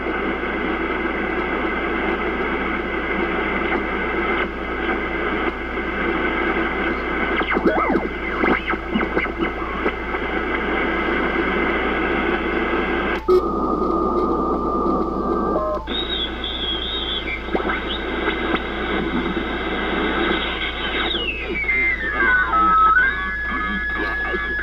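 Ham radio AM transmission received on the shortwave bands: continuous hissy, distorted receiver noise with muffled signal content and heterodyne whistles shifting partway through, steady and fairly loud with no clear speech.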